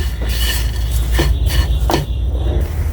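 A spoon scrapes and clinks against a pan while nawabi semai is stirred with powdered milk and sugar, a few sharp metallic knocks over a steady low background rumble, with no talk.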